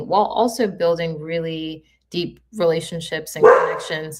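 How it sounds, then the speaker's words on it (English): A dog barks and yips a few times near the microphone, mixed in under a person speaking steadily. "Oh, see, sorry, that's my dog."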